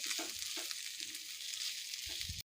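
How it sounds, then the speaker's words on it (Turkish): Washed rice is stirred into mint and onion in a hot pan for a stuffed vine leaf filling, with a steady close sizzle under a few soft spoon scrapes, ending abruptly. "Pirincimi de güzelce karıştırıyorum."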